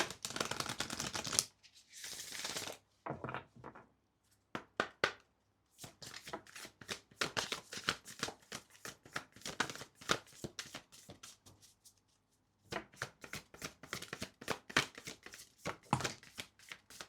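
Tarot cards shuffled by hand to draw a single card, heard as close, crisp riffling and slapping bursts with short pauses and a quieter stretch midway, no talking.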